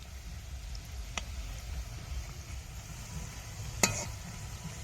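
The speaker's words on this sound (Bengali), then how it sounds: "মিষ্টিগুলো হয়ে গেছে ভাজা তুলে নেবো" Chira (flattened rice) sweets frying in a pan of oil, a steady soft sizzle throughout with a couple of brief sharp clicks, no voices.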